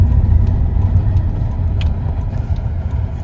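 A car drives on a road with a steady, low engine rumble and road roar throughout, close and continuous, with no talking.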